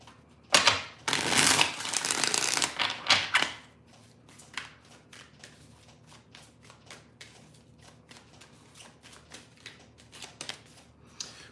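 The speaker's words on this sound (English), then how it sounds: "4 shuffles. 1, 2. 2 more shuffles." Tarot cards are riffle-shuffled close by, a loud burst of rapid flapping lasting a few seconds, followed by quieter scattered clicks and taps of cards being handled.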